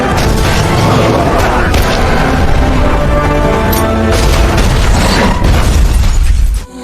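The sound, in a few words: vehicle crash and rollover in a film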